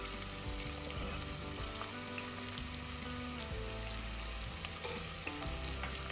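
Sliced onion fries in hot oil for a spicy Ankapur country chicken curry, a dense, steady crackling sizzle close by, with faint low stirring sounds underneath throughout.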